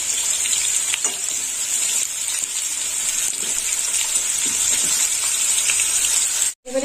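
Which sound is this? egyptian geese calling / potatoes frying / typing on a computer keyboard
potatoes frying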